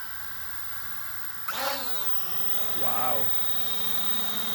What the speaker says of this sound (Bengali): এখন ড্রোনটা উড়াবো, চলুন।